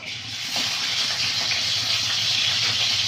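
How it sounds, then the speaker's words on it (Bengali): Onion paste hits hot oil in a heated kadai, the base for a cauliflower fish curry. A steady, fairly loud hissing sizzle sets in within the first half second and holds evenly to the end, with no voices. "তেলটা গরম হয়ে কড়াটাই গরম হয়ে গেছে, তেলটা দিয়ে দেব। এবার দিয়ে দেবো পেঁয়াজ বাটা"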